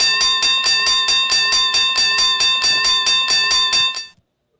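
A StreamYard stream bell sound effect rings repeatedly in a fast, even series of about sixteen bright metallic dings, loud and alone, then stops abruptly.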